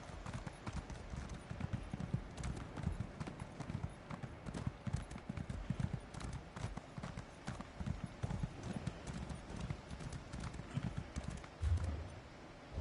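Steady clip-clop of horse hooves at a brisk trot in Elder Scrolls Online, continuous and close, with a muffled game background under it.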